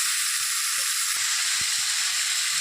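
Pumpkin pieces sautéing in a pan with turmeric and chili powder, cooking down until their surface water dries off, give a steady, loud, continuous sizzle and hiss with a few faint stirring knocks, and no talking.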